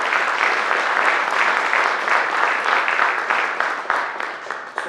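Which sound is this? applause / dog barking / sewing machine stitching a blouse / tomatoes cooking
applause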